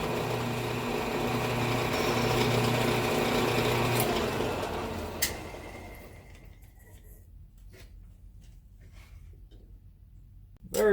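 A lathe turns a very thin bushing for a 1996 OBS truck, a steady motor hum with machining noise that fades out partway, leaving a quieter room with faint clicks.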